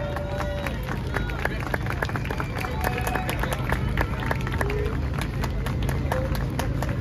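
At an outdoor street protest, a crowd claps and cheers with scattered hand claps and general murmur over a steady low background rumble, fairly loud and continuous.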